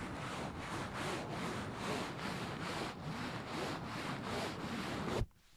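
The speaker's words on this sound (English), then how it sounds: "satin material. It's very hard to showcase and describe over camera" Satin fabric rubbed close to the microphone in rhythmic back-and-forth strokes, about two per second, giving a soft steady swish that stops abruptly near the end, with no talking.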